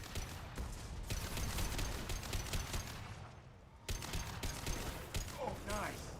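Rapid bursts of gunfire in the video game Mass Effect, a dense crackle of shots that stops briefly and then resumes, with voices and game effects mixed in.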